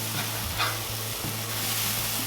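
Dry aged burger patties sizzle steadily on a Weber Jumbo Joe charcoal grill, a close, continuous crackle with a low background hum and a brief scrape as they are flipped.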